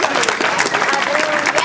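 Audience applause at a magic show during a town festival, a dense burst of many hands clapping loudly and steadily throughout.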